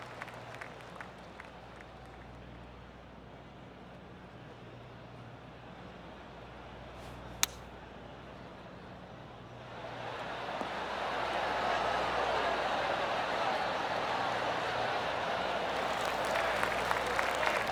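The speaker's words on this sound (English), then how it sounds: "Oh, I can hear the golf claps around the course." Golf crowd applause in PGA TOUR 2K25 at The Open Championship: a faint outdoor murmur that swells into distant, sustained polite clapping through the second half.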